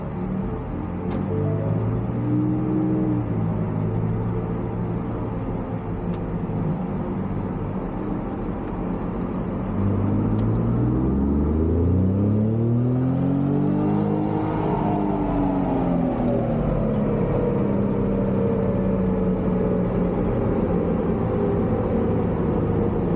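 A tuned Ford Raptor on a pump-gas stage two tune is run on a dyno, its engine droning, then climbing in a long loud rev that sweeps upward and holds, close and continuous.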